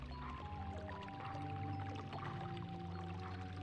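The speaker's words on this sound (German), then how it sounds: "das lässt das Wasser wieder abfließen" Water drains away in the video game Twilight Princess HD, a steady gurgling, pouring rush held under a layer of sustained game music tones, even in level throughout.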